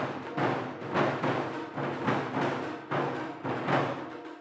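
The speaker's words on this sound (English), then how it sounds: "What you're hearing is the heartbeat of East Hawaii, the Puna Taiko Performance Group." Taiko ensemble drumming by the Puna Taiko Performance Group in East Hawaii: steady, booming drum strikes in a regular pulse roughly every half second, full and resonant, with no voices.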